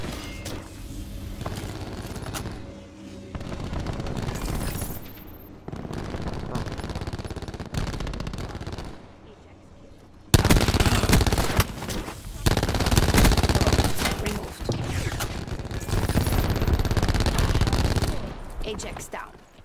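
A Spitfire machine gun fires in a 5v5 online shooter match. Long, rapid, close bursts of automatic fire repeat with short pauses between them.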